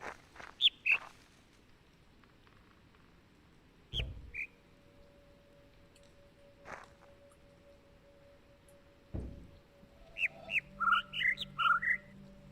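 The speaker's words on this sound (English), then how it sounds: "Notice how there's a variety of birds making noise there?" Birds in the video game The Witness give off scattered chirps and short whistled calls. Single notes sound at intervals over a low steady hum, and a busier burst of several tweets comes near the end.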